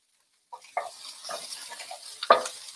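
Onions frying in a pan, stirred with a utensil in short scraping bursts over a soft sizzle, close and fairly quiet, with a sharper clink near the end.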